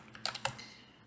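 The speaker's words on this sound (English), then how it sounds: "I'm just typing random things here to" Soft, close clicks of keys on a computer keyboard, a quick cluster of four or five taps in the first half second, fading to quiet.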